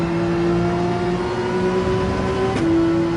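Race car engine held at full throttle in Gran Turismo 7, a steady loud high-revving drone with a brief pitch dip near the end as the car shifts gear.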